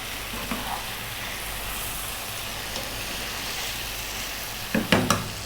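Chicken curry with chili and turmeric being stirred in a pan over a steady sizzle, soft scraping throughout and a couple of sharper utensil knocks near the end.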